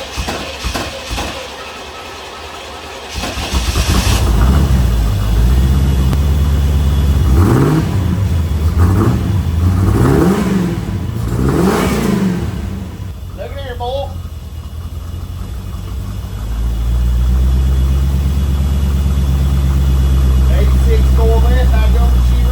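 A car engine cranks and starts after a fuel pump repair, then settles into a steady loud idle with several revving swells before dropping back; people talk nearby.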